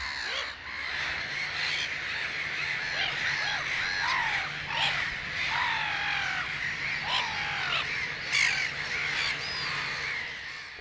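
Gulls call over and over at a busy colony beside the ponds of the Forez, harsh overlapping cries from many birds at once, some near and loud, others farther off, steady throughout with no voices.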